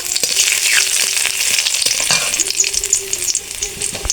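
Dried red chillies, cumin seeds and bay leaves sizzle steadily in hot oil for a curry, with a continuous close crackle and a few sharper pops and spatters throughout.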